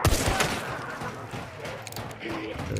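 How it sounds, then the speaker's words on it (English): Rapid gunfire bursts from the video game Hunt: Showdown crackle in a quick cluster at the start, followed by fainter scattered shots while players talk over the action. "Oh, you're shooting, yeah."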